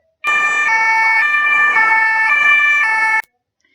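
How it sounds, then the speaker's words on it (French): A loud two-tone police siren alternates steadily between high and low pitches for about three seconds, then cuts off abruptly, with no voices. "120 décibels, c'est le niveau sonore d'une sirène de police."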